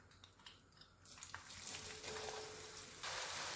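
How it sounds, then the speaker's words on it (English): Chopped onions hit hot bleached palm oil and start to sizzle after about a second. The frying hiss swells into a loud, steady crackle with no talk. "I'll have to stir fry this on a high heat for about 5 minutes"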